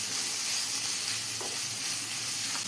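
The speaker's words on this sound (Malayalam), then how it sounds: "നമ്മൾ സവാള നന്നായി തന്നെ വഴറ്റിയെടുക്കണം." Sliced onions sauté in hot oil in a pan for a green peas egg masala, giving a steady loud sizzle throughout with a couple of faint stirring scrapes, close up and without talk.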